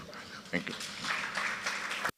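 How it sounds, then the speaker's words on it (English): Applause at a fintech awards ceremony, a moderate steady patter of many hands filling the room while a voice briefly speaks over it, cutting off abruptly at the end. "It's a round of applause."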